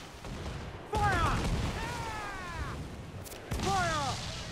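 Cannon fire from a pirate ship in the video game Assassin's Creed IV: Black Flag, heavy booms at about one second and again near three and a half seconds, mixed with shouted voices and game sound.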